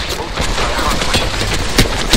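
Rapid bursts of video game gunfire in a shootout, loud and close, with repeated cracking shots over a dense battle background and a voice briefly audible.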